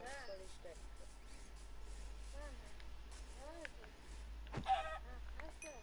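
Chicken clucking in Minecraft: several short, pitched squawks and clucks in quick little groups, fairly faint over a low background hum, with people chatting nearby.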